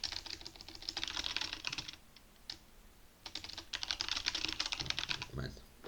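Rapid clicking bursts of typing on a computer keyboard in an office, two runs of quick keystrokes separated by a short pause, close and fairly quiet.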